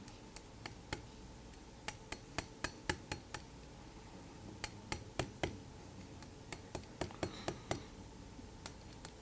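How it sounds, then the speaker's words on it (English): A small hammer taps a chuff cap onto a vape drip tip in a run of sharp, close, separate knocks. The taps come in irregular bursts with short pauses between them against a quiet room. "Okay, let me get the hammer."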